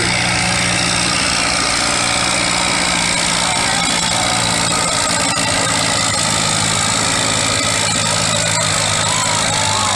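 Antique tractor engine running steadily at an old-time farm day tractor pull, a loud continuous rumbling drone throughout with no breaks.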